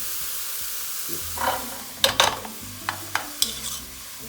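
Vegetables sweating in a pot for seafood chowder, with a soft sizzle under several sharp stirring clanks and scrapes of a spoon against the pot, close and fairly loud, with no talking.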